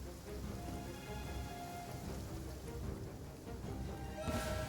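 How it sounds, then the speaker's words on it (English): Steady rain falls in the video game Genshin Impact, a dense, even hiss that continues throughout with a brief louder swell near the end. "Oh, how convenient it's raining."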